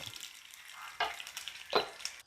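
Hot oil crackling with sharp pops and spatters as mustard seeds splutter, a few louder bursts over a steady sizzle, close by.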